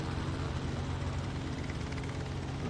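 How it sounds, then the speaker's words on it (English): A helicopter drones overhead in Farming Simulator 19, a steady broadband rotor rumble that holds loud and unbroken throughout with no clear voices. "Sounds like there's a helicopter up above."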